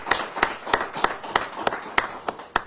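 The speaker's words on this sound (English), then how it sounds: "You should give yourselves a round of applause." An audience applauding at a press event on a drug addiction plan, with steady, sharp hand claps at a regular rhythm through the clip, moderately close and alone.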